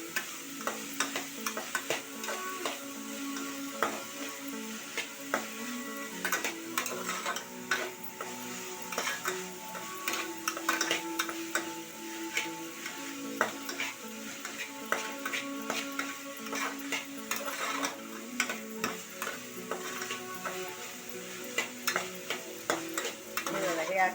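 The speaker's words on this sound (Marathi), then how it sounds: "थोडं मी कांदा परतवून घेतले" Onions sautéing in a pan for chicken gravy, a soft continuous sizzle with frequent clicking stirs and scrapes of a spoon, close and fairly quiet throughout.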